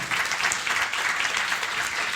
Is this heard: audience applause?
yes